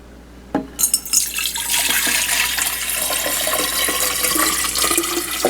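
Water pours into an Under Armour MVP 2L hydration bottle: a few splashy glugs at first, then a steady, close rushing pour that keeps filling the plastic bottle to the end.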